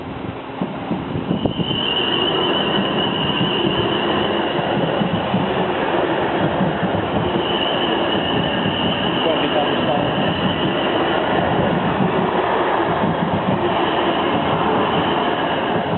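A train passes over the level crossing at Petersfield, Hampshire, a steady loud rolling rumble with a faint high wheel whine that lasts throughout, under occasional voices.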